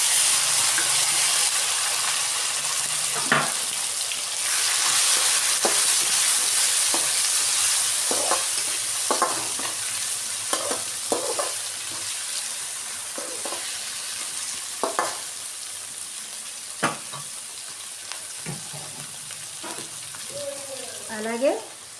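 Onion, tomato and green chilli frying in a pan with tempering for a greens and tomato curry, a continuous close sizzle and hiss broken by occasional stirring scrapes and clinks, with brief speech near the end.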